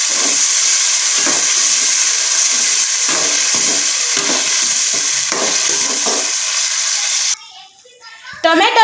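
Tomato paste hits a hot pan of golden-brown onions and sizzles loudly while being stirred, a bright steady frying hiss with scraping strokes, then it drops away abruptly near the end.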